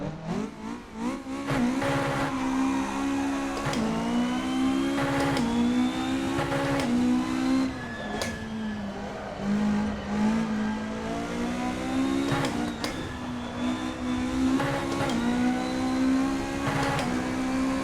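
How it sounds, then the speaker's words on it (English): A Mark II Ford Escort rally car in Assetto Corsa howls steadily up the Goodwood hill climb, engine held high near the rev limiter with brief dips as it shifts, loud and continuous with no talk. "let's go and have a little bit of fun in a Mark II Escort up Goodwood"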